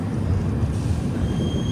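Duronto Express train running through Aler railway station, heard as a steady, dense rumble of wheels and carriages that holds at an even loudness throughout.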